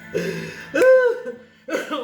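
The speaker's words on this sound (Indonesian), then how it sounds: "Batuk." A single hoarse cough, close and fairly loud, followed by a brief pause and a short rasping throat sound.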